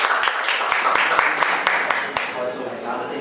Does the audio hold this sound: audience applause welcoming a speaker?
yes